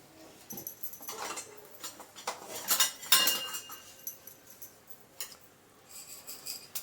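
Scattered metallic clinks and scrapes of utensils against a pan as a spoonful of oil is added, irregular and fairly close, with quieter gaps between bursts.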